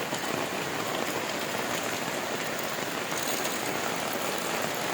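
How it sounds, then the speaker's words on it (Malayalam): Heavy summer rain pours down in a steady, dense hiss of drops striking surfaces. It stays loud and even throughout, with no voices. "മഴ ഊക്ക് കൂടിട്ടോ, ഊക്ക് കൂടി മഴ ദമ്മ് കൂടിക്കണ്"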